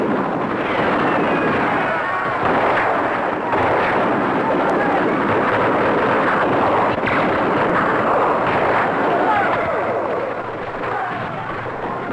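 Cannon artillery fire at a military frontier fort, heard as a dense, continuous roar of booming blasts and rumbling crowd-like noise that stays loud throughout, with no clear gaps between shots.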